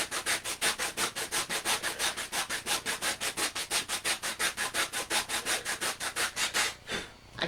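Steady rhythmic hand sanding of a wooden wall shelf, fast back-and-forth strokes of sandpaper on wood repeating evenly at close range, stopping just before the end.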